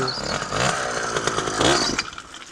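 A motorcycle engine being kicked over and catching, a rough, buzzing, chainsaw-like revving that rises and falls in two surges before cutting off, loud and close.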